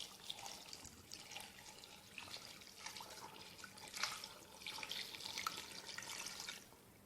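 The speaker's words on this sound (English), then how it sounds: "Then I'll be adding water." Water pours steadily into a pot of frozen meat being prepared for Nigerian fried rice, a splashing, gurgling stream that shifts in intensity and stops abruptly near the end.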